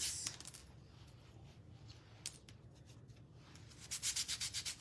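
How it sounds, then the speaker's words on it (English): Sanding the hands of a painted wooden figure, soft steady rubbing that ends in a run of rhythmic scrubbing strokes, close and quiet, with no talking. "let's sand the hands."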